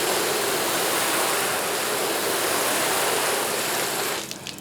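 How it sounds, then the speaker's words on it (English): Water sprayed in a steady, loud hiss onto a car hood treated with homemade hybrid spray sealant, running continuously alone before cutting off abruptly near the end. "let me go ahead and spray it down with water so you guys can see its water behavior"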